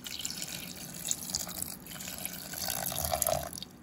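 Water pouring from a tap or vessel into a cooking pot while making masala sundal, a steady, close splashing stream with no talk.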